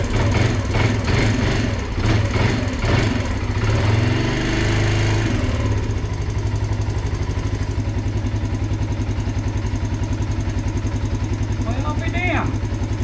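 A 2005-2007 Yamaha Grizzly 125cc ATV engine idles steadily with a freshly changed carburetor, running loud and rough at first and then settling into an even, close idle with mechanical clatter and no pauses.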